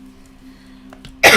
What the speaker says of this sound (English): I just coughed right in the mic.